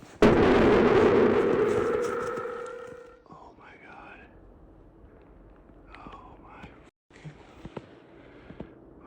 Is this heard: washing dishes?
no